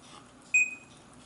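A Sony VAIO laptop speaker gives one short, clear electronic beep, brief and fairly close, in an otherwise quiet room.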